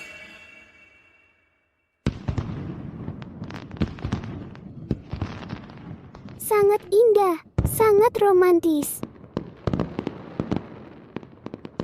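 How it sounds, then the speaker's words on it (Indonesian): Purple fireworks burst outdoors at night in a series of loud bangs with whistling, crackling trails, while people talk over the display. "Kembang api ungu."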